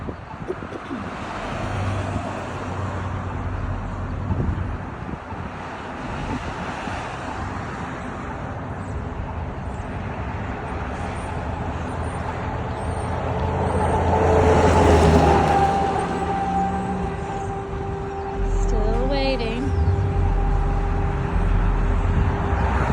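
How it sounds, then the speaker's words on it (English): Cars cross a plus-shaped street intersection in a steady stream of roadway noise. One vehicle swells louder as it passes near the middle, and engines rumble low toward the end. "Obviously, there's still the perpendicular traffic, so it's not my turn yet."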